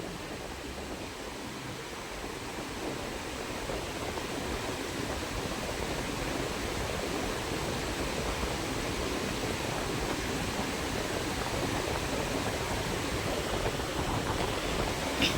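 Water poured steadily into a pan of cooked vegetables for pav bhaji, a continuous broad rushing hiss lasting throughout, fairly close and even in level, with no talking.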